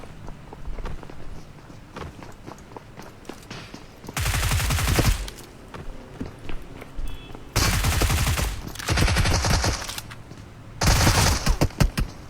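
Bursts of rapid automatic gunfire in a battle-royale solo-versus-squad shooter game, three loud sustained volleys separated by quieter stretches of footsteps and ambient game noise.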